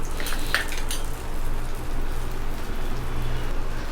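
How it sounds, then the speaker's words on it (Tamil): Dosa batter sizzles with oil on a stone griddle, a steady, close crackle like light rain. A brief metallic clink cuts in near the start. "கல் தோசை விட்டாச்சு. இதுக்கு வந்து நம்ம எண்ணெய் விற்றுக்கலாம்."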